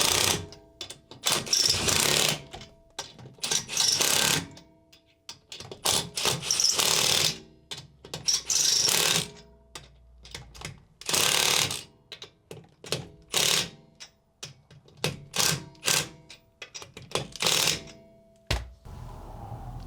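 An impact wrench hammers car wheel lug nuts on in a crisscross star pattern. Loud, close bursts of rattling, a second or two each, are split by short pauses and a few clanks, with no talking.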